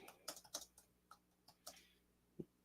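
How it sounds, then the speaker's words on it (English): Quiet, scattered keystrokes on a computer keyboard, a handful of irregular taps with pauses between them and a firmer final press, with no voices. "Judge not my spelling and my typing"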